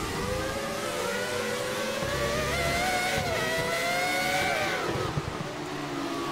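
A 1999 Ferrari F1 car's V10 engine in a racing video game whines at high revs, pitch rising and shifting steadily, with other cars droning around it; a continuous, loud motorsport roar.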